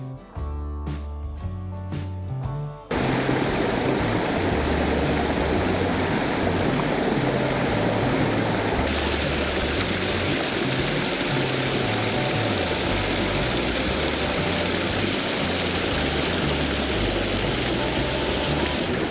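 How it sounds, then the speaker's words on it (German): The Beutbach stream rushing down through a ford toward the Nagold valley, a loud, steady broadband roar of water that follows a few seconds of quieter tonal sound, continuing unbroken to the end. "Hier an der Furt rauscht der Beutbach ins Tal hinab Richtung Nagoldtal."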